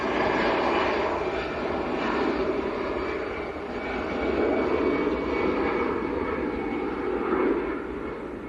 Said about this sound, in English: we've got another Sun Express taxiing out as well